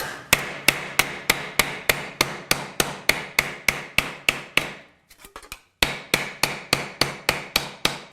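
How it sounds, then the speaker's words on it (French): A hammer strikes metal on a vise anvil to reshape it, with loud sharp ringing blows in a steady rhythm of about three per second, a short pause with faint scraping, then the rhythmic strikes resume. "je peux aussi redresser la forme sur l'enclume de l'étau"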